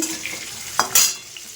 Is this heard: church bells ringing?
no